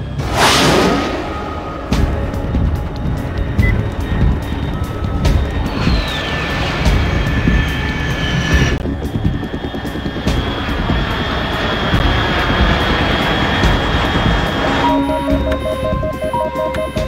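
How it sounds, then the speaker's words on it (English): An aircraft roars past overhead in Metal Gear Solid 3, a loud, sustained engine drone with a rising whine partway through. It is heard alone with no speech. "Unidentified aircraft detected."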